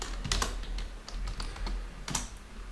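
Someone types HTML code on a computer keyboard: a quick, irregular run of close, light key clicks with no talking.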